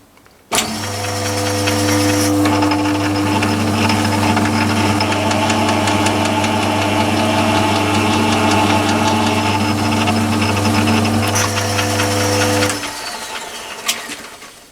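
A Myford ML7 lathe starts up with its lead screw and half nut engaged and runs with a steady, loud mechanical hum and rattle for about twelve seconds before winding down and stopping.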